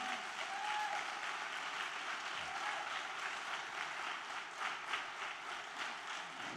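A large audience applauds to welcome guests at an event, giving dense, continuous clapping that holds steady and fairly loud throughout.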